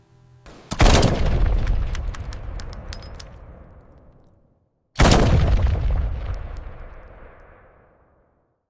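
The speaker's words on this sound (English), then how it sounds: "Trainees fire the M16 at targets downrange for the first time." Two loud, close M16 rifle shots on a live fire range, each a sharp crack followed by a long echoing decay, several seconds apart.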